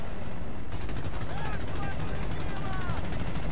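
Rapid gunfire rattles through a battle in the video game Battlefield Bad Company 2, loud and continuous over a dense roar of game noise and rumble.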